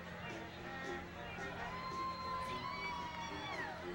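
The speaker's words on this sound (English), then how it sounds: "The crowd is just getting really excited." Parade crowd cheering and whooping as floats approach, a dense distant mix of shouts and children's voices with whistles over continuous babble.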